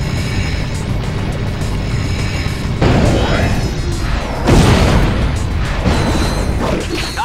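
Explosions blast in the Ratchet: Deadlocked video game, two loud bursts standing out over a steady roar of game noise with mechanical whirring throughout.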